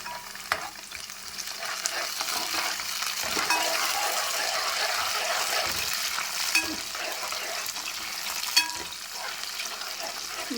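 Curry leaves hit a pan of fish curry masala, a steady crackling sizzle running throughout with scrape-and-stir sounds and a few sharp clinks, close and fairly loud, with no talking.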